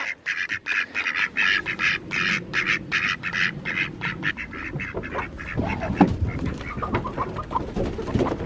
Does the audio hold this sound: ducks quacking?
yes